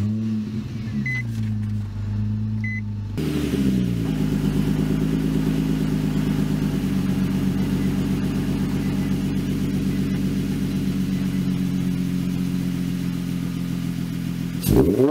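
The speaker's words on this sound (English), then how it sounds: "you shut off the ignition and turn the engine back on" A Nissan 350Z or Infiniti G35 3.5L V6 engine cranks briefly after a quiet moment, then settles into a steady, rumbling idle close by that holds evenly until the end.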